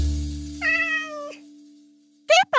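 A cat meows in a Minecraft game, two clear synthetic calls about a second apart over a steady low hum, with no talking.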